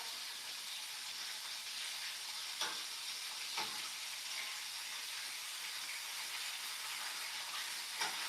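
Steady frying hiss and sizzle from batter in a pan on high heat, continuous and fairly soft, with a few faint clicks, no talking.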